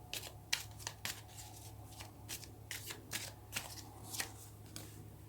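Tarot cards being shuffled close up, a run of quick riffling bursts and soft flicks at an uneven rhythm, fairly quiet and with no talk.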